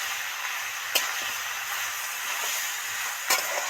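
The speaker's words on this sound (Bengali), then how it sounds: "একটুখানি দিয়ে ভালো করে নেড়ে চেড়ে দু মিনিট ভাজতে থাকবে" Snake gourd stir-frying with a little ginger in a pan, a steady broad sizzle and hiss running throughout, with a couple of sharp clinks from stirring near the start and end.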